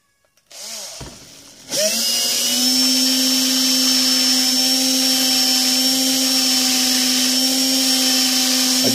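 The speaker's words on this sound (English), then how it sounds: "Alright, just get yourself a sanding wheel." A power sanding wheel spins up after a brief rattle, then whines at a steady, loud, high pitch for several seconds while cleaning the edge of a leather knife sheath, with no voices.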